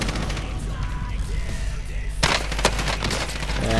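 Automatic gunfire in the video game Warzone rattles in rapid bursts over a constant low game rumble, with a louder, sharper volley breaking in partway through.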